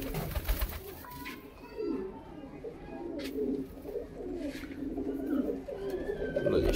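Punjabi chhatri pigeons, a flock of pet birds kept for sale, coo in a steady, layered murmur that continues throughout, close and fairly loud, with a few sharper calls standing out and no one talking.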